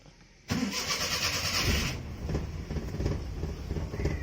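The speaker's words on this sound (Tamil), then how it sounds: "பார்த்திங்கன்னா கேஸில் ஸ்டார்ட் ஆகிட்டு" A Maruti 800 with a carburetor-type LPG conversion kit cranks and starts on gas. A sudden loud churn of the starter gives way to the steady idle of a small engine, heard up close.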